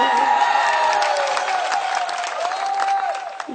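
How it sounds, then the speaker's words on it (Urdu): A crowd at a live event bursts into loud, sustained clapping and cheering with a few whoops mixed in. "ایک بار زوردار تالیاں بجا کر مجھے"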